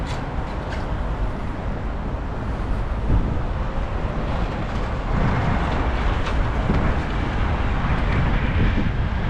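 Steady, loud wind buffeting a microphone, a constant low roar with gusty swells throughout and no voices.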